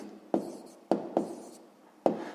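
A pen writes on paper during a sixth-grade maths exercise, four short close scratching strokes with brief quiet gaps between them and no talk.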